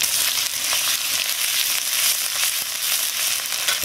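Grated ginger and chopped garlic frying in a pan for vegetable momo filling, a steady close hiss and crackle of hot oil with faint stirring throughout.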